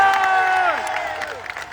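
A crowd at an SSC protest at Delhi's Ramleela Maidan claps and cheers, a broad wash of applause behind a loud amplified voice.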